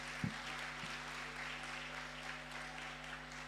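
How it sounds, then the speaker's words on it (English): Faint applause from an audience at a company's tenth anniversary celebration for its engineering lead, a soft, even patter of clapping heard at a distance over a steady low hum, with a couple of brief thumps near the start. "Ladies and gentlemen, let's give him some round of applause"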